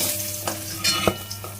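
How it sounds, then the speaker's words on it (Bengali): New potatoes sizzling steadily in a hot pan, with a few clinks of a spatula or utensil scraping through them at close range and no talking. "আলুগুলো দেখো ভাজা হয়ে গেছে,"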